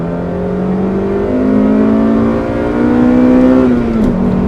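A 1995 Acura Integra GS-R engine revs hard at high RPM during a road test, a loud, sustained rising wail that climbs steadily, then drops briefly as the driver shifts near the end.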